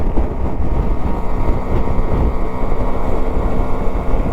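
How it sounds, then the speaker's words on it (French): Strong wind buffets the microphone on a Varadero 125 motorcycle ride in a constant low roar, loud and unbroken with no voices. "Il y a quand même un sale vent."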